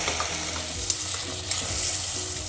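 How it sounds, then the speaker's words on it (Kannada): Tomatoes fry in a pan with a steady, close sizzle and hiss, broken by a couple of sharp stirring clicks from a utensil, with no voices. "ಟೊಮೊಟೊನು ಫ್ರೈ ಆಗಿದೆ."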